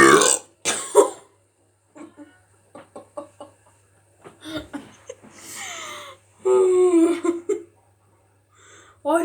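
Several burps after chugging Dr Pepper, loud croaking belches that come in short bursts and a couple of longer drawn-out gulping rasps, close to the mic with quiet gaps between.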